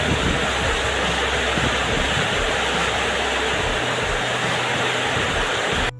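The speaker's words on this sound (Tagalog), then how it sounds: "eto nga't napakalakas ng ulan at ipaparinig ko sa inyo" Heavy rain roars steadily with gusting wind, a dense unbroken hiss that stays loud until it cuts off abruptly at the end.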